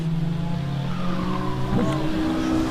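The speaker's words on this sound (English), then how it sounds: "We do have the spoon car off on Sunset, going full 360." Race car spinning a full 360 off track at Buttonwillow during a GTA season finals race, with tires squealing in rising and falling sweeps over engine drone and faint background talk.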